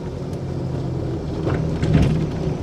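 A 1937 Austin Seven Ruby drives in third gear at about 15 mph. Its small engine gives a steady, low, even rumble throughout, with a slight swell near the end and no voices.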